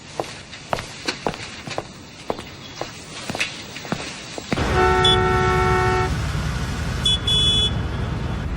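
Car horns honking in street traffic: footsteps tap along at first, then a sustained horn blares over a rumbling traffic bed, followed later by a second shorter honk.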